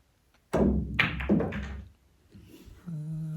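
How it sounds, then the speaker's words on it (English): A pool cue strikes the cue ball, followed by knocks as the 7-ball travels at an angle toward the side pocket, then a voice briefly over room noise. "trying to shoot the 7-ball into the side pocket and at an angle"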